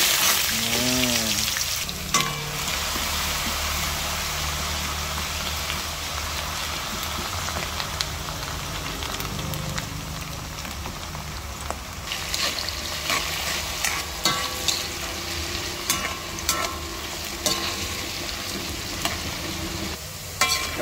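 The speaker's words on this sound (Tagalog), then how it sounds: "Prituhin muna natin yung mga patatas." Potato pieces for menudo frying in a pan, giving a continuous rain-like sizzle for about twenty seconds, broken by frequent stirring clatters of a utensil against the pan.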